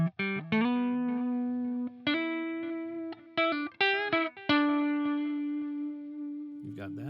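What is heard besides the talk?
electric guitar through a delay pedal with distinct repeats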